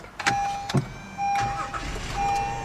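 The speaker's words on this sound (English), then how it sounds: "push the button to start the engine" Clicks and a soft chime, then a 2014 Acura MDX SH-AWD's engine starts by push button and settles into a steady low idle nearby, with a repeating electronic tone.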